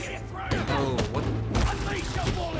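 Gunfire in the Marvel's Spider-Man 2 video game: a dense burst of overlapping shots and heavy thuds over about two seconds, loud and close, with game effects around it.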